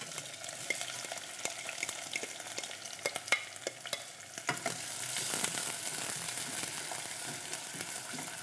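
Onion fries in a pan with a bay leaf, a dense crackling sizzle that carries a busy run of stirring scrapes and clicks before it settles into a steadier, brighter hiss, close and continuous with no talking.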